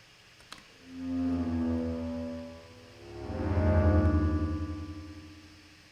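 Two sustained synthesizer notes swell and fade in turn, softened by a short, low-feedback delay echo and a reverb tail. They sound fairly quiet and play alone with no voices.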